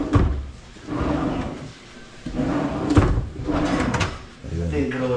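A soft-close kitchen cabinet drawer with concealed hinges and hidden handles slides shut with a few muffled thuds and rumbles, heard close up under a man's speech.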